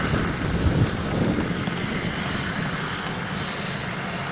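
An aircraft engine runs steadily at moderate distance, a constant whining drone with a faint high tone that swells and fades slightly, near Muckish Mountain.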